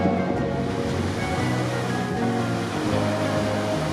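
A waterfall in a canyon pours as a constant loud roaring rush of water, close and unbroken, with no voices.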